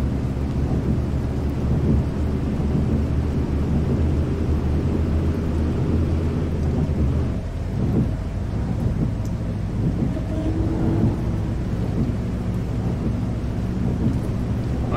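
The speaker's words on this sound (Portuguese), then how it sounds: "Chuvinha tá braba." Heavy rain pours steadily in the Proton Bus Simulator game, a dense continuous hiss with low rumbling thunder-like swells throughout, loud and unbroken for the whole stretch.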